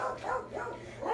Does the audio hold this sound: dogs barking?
yes